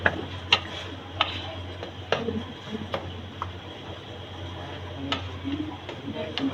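Minced beef keema being roasted and stirred in a kadhai with almonds, poppy seeds and cardamom, a spoon giving faint, sparse ticks and scrapes against the pan in a quiet kitchen.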